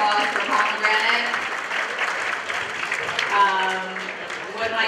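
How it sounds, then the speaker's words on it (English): Audience applause for a catering company at an event, clapping moderately loud beneath a speaker's voice that continues over it. "Everybody, round of applause for Pomegranate."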